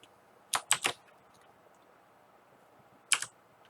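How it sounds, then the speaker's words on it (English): Typing on a mechanical computer keyboard: a quick burst of three sharp clacks, a pause, then two more clicks, close and crisp against a quiet room. "I have a mechanical keyboard now, so if I misclick on my YouTube commands"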